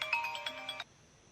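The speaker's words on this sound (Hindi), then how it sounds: "बड़ा ज़रूरी फ़ोन है सर।" A phone ringtone rings out in a TV drama scene, a bright repeating electronic melody with steady tones that plays loudly for under a second and then cuts off abruptly.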